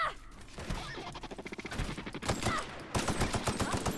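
Rapid shotgun and weapon fire against robots in The Outer Worlds, with a string of sharp repeated blasts in quick rhythm that grows louder and denser toward the end.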